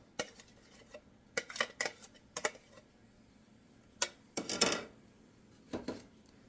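Walnut mix being added to a cooking pot, heard as a scattering of faint, close clinks and rattles in short bursts against a quiet room.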